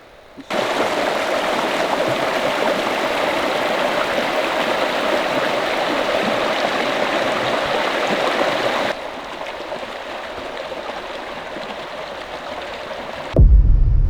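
A creek rushes and splashes steadily, loud and close, then drops to a softer flow before a sudden bump at the end.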